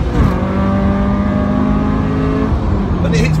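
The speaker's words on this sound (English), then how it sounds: "When it hits rev limiter, it just stops." A supercharged Subaru BRZ engine revs hard and holds a loud, steady high-pitched drone near the rev limiter, then cuts off abruptly and settles into a lower tone, recorded close from inside the car.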